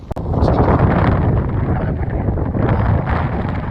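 Strong wind in Denmark buffets the microphone while cycling, loud roaring gusts in a continuous rumbling rush with brief surges.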